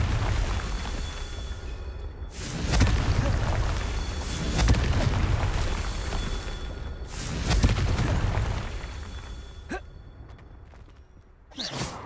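Confringo blasting spell explosions in Hogwarts Legacy, several loud booming bursts with rumbling tails rising and fading in waves, followed by a couple of sharp cracks near the end.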